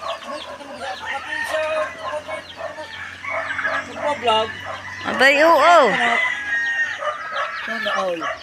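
A rooster crows loudly several times amid clucking fowl, with people chatting nearby throughout.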